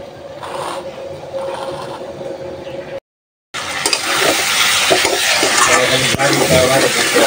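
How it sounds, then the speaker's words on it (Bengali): Rice and taro sautéed in a pan, a continuous scraping and sizzling stir, softer at first and louder after a brief gap of silence. "চাল আর কচুগুলো ভালোভাবে কষাই নিলাম"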